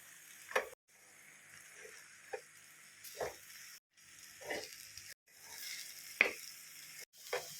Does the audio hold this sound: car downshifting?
no